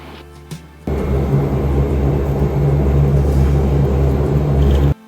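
Cessna Caravan turboprop engine starting up and running on the ramp at Sedona, a loud steady low roar and whine that kicks in abruptly and holds near and constant, then cuts off at the end.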